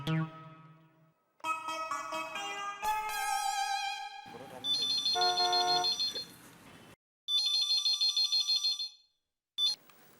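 Electronic telephone ringtone in a comedy scene, a melodic synthesized tune playing in repeated bursts with short gaps, loud and close, with no voices over it.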